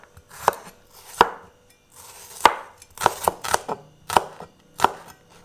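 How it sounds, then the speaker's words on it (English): A knife chops garlic and shallots on a cutting board for Indonesian sweet and spicy fried tempeh: about eight sharp, close, irregularly spaced strikes, each crisp and separate. "Chop the garlics and the shallots."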